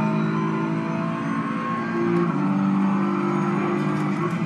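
BMW M4 engine in a racing simulator game, a steady loud drone with a sustained revving tone that shifts pitch partway through, continuous and close.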